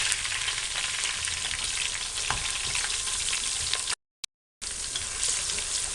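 Ginger garlic paste fries in a hot pan, a constant close sizzle with occasional stirring scrapes, briefly cut by a short silent gap before the sizzle resumes.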